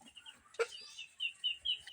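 Fayoumi chickens, four roosters and four hens, cluck softly nearby with a few higher rooster calls, quiet and intermittent.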